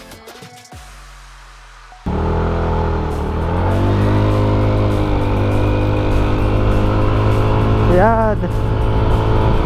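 Motorcycle engine with a stock CVT torque spring idles, then jumps to a loud, steady drone at about two seconds as the revs climb slowly, with a short rising whine late on; a brief word is spoken.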